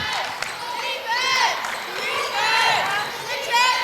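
Crowd noise inside Merkert Gymnasium during a Stonehill women's basketball game against Assumption, a loud continuous murmur with shouts and cheers swelling in waves, under voices talking.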